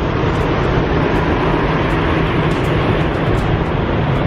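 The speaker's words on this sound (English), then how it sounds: "Noisy trucks." Heavy trucks roar along I-75 north of Chattanooga in a loud, continuous broadband rumble of highway traffic with no pauses.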